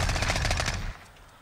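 Rapid automatic fire from an LMG shot from the hip in Modern Warfare, a loud dense burst of gunshots lasting about a second before cutting off into quieter game ambience.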